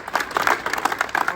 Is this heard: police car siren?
no